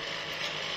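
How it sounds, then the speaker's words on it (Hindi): A noisy household fan rattles and whirs continuously, a steady mechanical clatter with a broad hiss, close and fairly loud, with no voices. "बहुत शोर करता है ये पंखा।"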